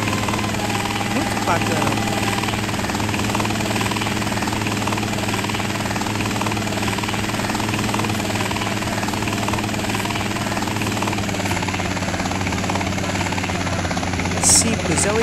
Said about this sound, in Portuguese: É simples, é o helicóptero Sparrow que ele substitui.